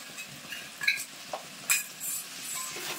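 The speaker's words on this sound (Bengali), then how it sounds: "গুড় দেওয়ার পরে কিন্তু আমি খানিকক্ষণ নাড়িয়ে নিয়েছি" A spoon stirs boiled amla with jaggery in a pan, giving a few short scraping strokes over a faint, steady sizzle, close and moderately loud, with no voices.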